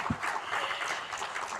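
Audience clapping after a keynote speech at an annual general meeting, a steady dense patter of many hands filling the short moment without voices.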